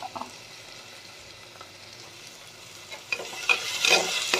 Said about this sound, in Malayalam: അപ്പോൾ നമുക്കിനി ഈ വലിയ ഉള്ളി ഇട്ട് കൊടുക്കാം